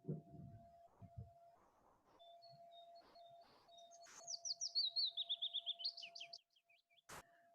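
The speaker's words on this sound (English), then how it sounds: "with the willow warbler, it's said to start really high and then has a descending note" Willow warbler song in a dawn chorus: a faint, clear phrase that starts high and slides down in a quick descending run of sweet notes, over a steady background tone with scattered soft chirps.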